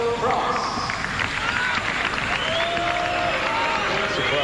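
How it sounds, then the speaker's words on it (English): Crowd at a 1996 bodybuilding contest responding to a placing, a mixed murmur with scattered claps and calls from the audience, under an announcer's commentary. "Crowd unhappy."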